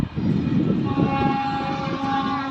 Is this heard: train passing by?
yes